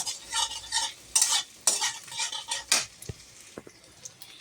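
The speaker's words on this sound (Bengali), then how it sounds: "এখানে কড়াইতে পেঁয়াজ লঙ্কা আর ডিম একসঙ্গে ভেজে নিয়েছি" Onion, chili and egg frying with pasta in a wok, a soft sizzle broken by repeated scraping and clinking of a spatula stirring against the metal, close and fairly quiet.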